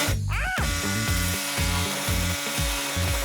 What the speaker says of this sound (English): So we're going in with the power tools.